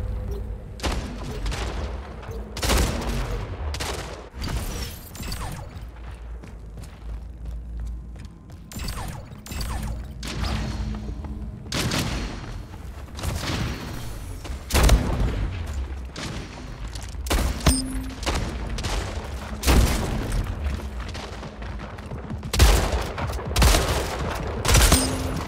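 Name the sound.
gunfire in video game Splitgate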